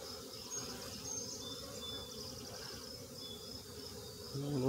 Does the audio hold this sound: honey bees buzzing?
yes